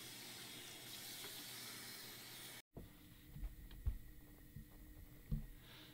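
Tap water runs in a continuous hiss while rinsing developed HP5 black and white film, then cuts off abruptly; a few soft knocks and handling sounds follow in the quiet.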